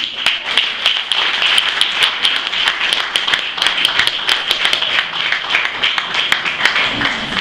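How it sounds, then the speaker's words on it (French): An audience at an evening storytelling event at a cultural centre claps steadily, with many distinct hand claps forming a continuous, fairly close round of applause throughout. "Applaudissez-vous pour toutes les femmes ici."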